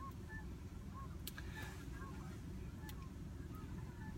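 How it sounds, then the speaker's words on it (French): Geese honk in scattered calls over the sea, faint and distant, above a steady low rumble, with a few sharp clicks between the calls. "Ah, mais ça, c'est les oies. Il y a plein de oies."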